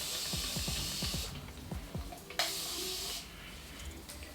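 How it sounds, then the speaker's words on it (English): A spray bottle of water mixed with curl activator mists onto wig hair in a few bursts of hissing spray, close and fairly soft, with quiet handling noises in between. "And I'm just going to spray this on the hair."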